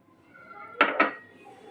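Grated coconut, sugar and cream are mixed in a pan off the heat, giving two quick metallic clinks of a utensil against the pan over quiet room tone.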